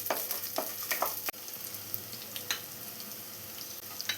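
Six chopped shallots sauté in hot coconut oil for a prawn curry, giving a constant close sizzle broken by light spatula taps and stirring clicks.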